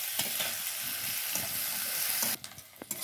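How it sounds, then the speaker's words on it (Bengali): Chopped onions frying lightly in a pan for a thin fish curry give a steady, close sizzle, with a few stirring scrapes and clinks breaking in near the end. "এখানে পেঁয়াজটা বেশি দেখুন ভাজিনি, এরকমভাবে ভাজা হবে, হালকা ভাজবো"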